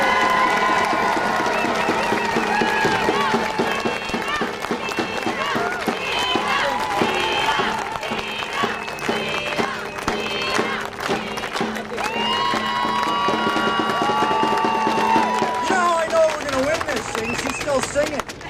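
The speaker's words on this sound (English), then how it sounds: "Can I get a big round of applause for the president of the Prince George Teachers Association?" Crowd at an education rally held by teachers' unions claps and cheers steadily throughout, with shouts and voices mixed in over dense, continuous applause.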